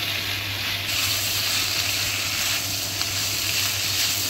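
Food fries in a hot pan with a steady, close, loud hiss and crackle of sizzling oil that holds at an even level throughout, without any talking.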